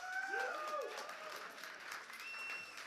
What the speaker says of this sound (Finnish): Annatko itsellesi aplodit?